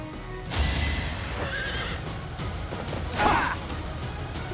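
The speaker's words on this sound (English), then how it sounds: "he takes the time to rear up his horse and like mini charge" A horse in Fire Emblem: Three Houses rears and neighs loudly, with a second whinny near the end over a steady game background, no talk.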